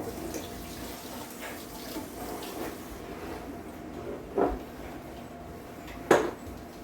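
Water runs from a kitchen faucet in a steady, soft hiss while a hand is rinsed, with a couple of brief clanks of dishes or the tap over the flow.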